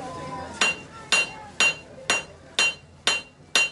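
A blacksmith strikes with a hammer, seven sharp ringing metallic blows landing at a steady, fairly quick rhythm about half a second apart, loud and close, with a short resonant ring after each hit.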